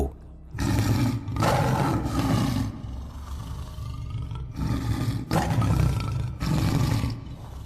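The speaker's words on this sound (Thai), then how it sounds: "เจ้าเสือใหญ่ตัวนั้นมันเดินเข้ามา พร้อมกับส่งเสียงคำรามขู่" A tiger roars several times in a row, deep and rumbling, each roar loud and close with brief pauses between them.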